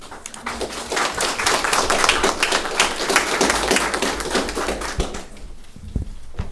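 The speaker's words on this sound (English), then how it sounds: "So I wanna applaud all you guys." A room full of people at a school committee meeting claps steadily for the students, a dense, even patter that holds strong before tapering off near the end.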